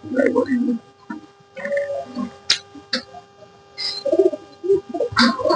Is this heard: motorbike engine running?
no